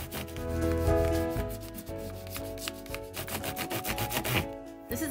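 Marker or crayon rubbing across a folded origami paper ball as it is colored and turned, a steady scratchy scraping in close, continuous strokes with no talk.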